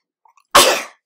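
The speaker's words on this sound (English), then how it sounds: "I'm going to sneeze." A single loud, close human sneeze bursts out after a moment of near silence and fades quickly, with only faint breathy sounds before it.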